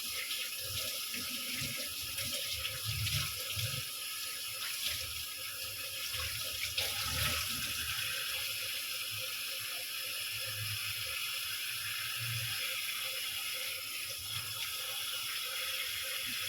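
Tap water runs continuously into a basin, a steady splashing stream with small surges, close by and alone.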